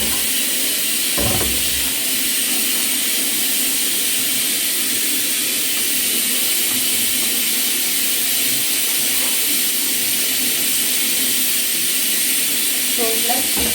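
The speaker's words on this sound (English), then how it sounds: "So I'm going to deep fry it in oil and then I fry it." Chicken deep frying in hot oil gives a steady, loud sizzling hiss that runs unbroken from start to finish, with a voice faintly audible beneath it.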